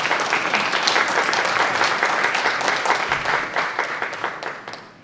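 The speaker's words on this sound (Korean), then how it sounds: "큰 박수로 만나뵙겠습니다." A forum audience gives steady, dense applause to welcome a lecturer onto the stage, many hands clapping together at an even level before thinning out toward the end.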